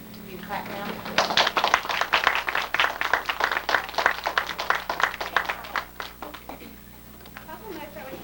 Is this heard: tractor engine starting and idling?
no